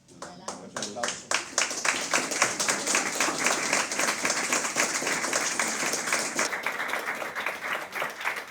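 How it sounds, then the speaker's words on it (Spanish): Scattered hand claps build quickly into full audience applause, steady and fairly close, with a voice talking over it near the end. "Aplauso"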